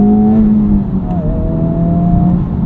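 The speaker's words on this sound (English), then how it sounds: "Let's listen to some of the weird noises that the Type R makes." A 2023 Honda Civic Type R in Plus R mode produces a smooth, synthetic-sounding engine drone with sustained tonal notes that shift in pitch, heard up close inside the cabin.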